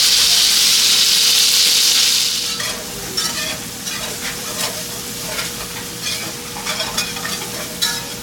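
Onions fry in avocado oil with salt and pepper in a pan where hamburger patties were browned, starting with a loud steady sizzle that drops to a softer crackle. Scattered stirring scrapes and pops follow, with no talking.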